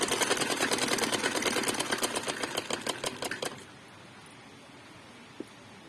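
Sewing machine stitching a half-inch seam on fabric for a salwar, a fast steady run of needle strokes for about three and a half seconds before stopping, followed by near silence with a single faint click.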